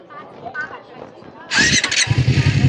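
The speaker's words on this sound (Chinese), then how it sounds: "我们来听听这个车的一个声浪" A stock 2024 KOVE 250RR twin-cylinder 250cc motorcycle starts up, a short starter churn bursting into a loud, close, rapidly pulsing idle, with someone talking over the first half before the engine catches.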